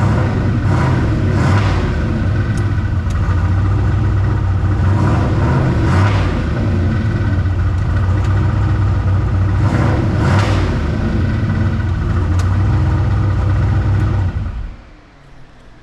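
A hot rod car engine runs in gear with a steady, loud low rumble and a few rising revs, continuous for about fourteen seconds before cutting off abruptly.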